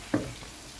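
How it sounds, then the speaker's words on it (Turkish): Onions sautéing in a pan for a Turkish olive-oil vegetable dish, giving a quiet, brief sizzle and stir with one soft clink near the start, then low frying hiss. "Bu arada soğanım kavruluyor."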